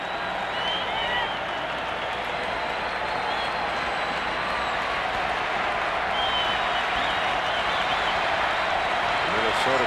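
A big Minnesota crowd at Game 7 of the 1991 World Series between the Braves and Twins roars and claps steadily and loudly, a dense and unbroken wall of cheering that lasts throughout.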